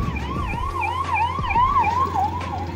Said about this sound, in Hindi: आ रहे एक एम्बुलेंस